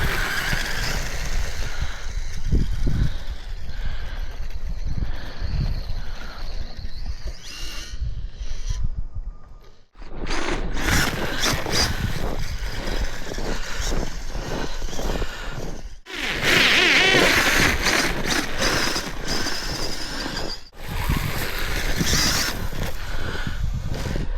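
Kyosho Peach Prowler RC car on a Turnigy Rapid 2S shorty pack driving at quarter throttle, a loud continuous whine with brief dropouts and gravelly tire scrub as it runs around a banked track.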